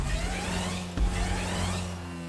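A twin-turbo car races in GTA V Online, its engine giving a steady whining drone with sustained tonal hum and a brief bump partway through, loud and continuous.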